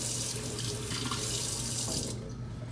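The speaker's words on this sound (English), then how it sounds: "So, of course, we want them to wash the vegetable off." Water runs steadily from a kitchen tap into a sink while a vegetable is washed, a continuous close rushing stream that drops away near the end.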